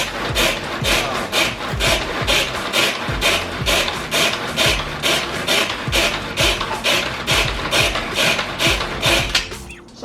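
Rapid, steady chopping of an onion in a hand food chopper, dozens of sharp strokes in an even rhythm, close and loud, with no talking.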